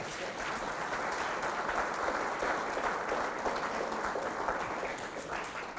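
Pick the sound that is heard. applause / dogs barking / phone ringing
applause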